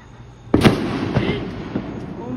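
Quiet background, then a sudden loud bang followed by a string of crackling pops and booms, like fireworks or firecrackers going off some distance away.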